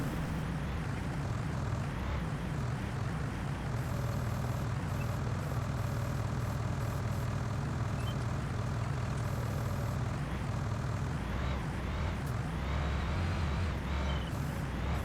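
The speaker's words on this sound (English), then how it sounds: "That's just a flying tractor." Tractor engine in Farming Simulator 19, a steady low droning hum with airy whooshing layered on top, running continuously and fairly loud with no pauses.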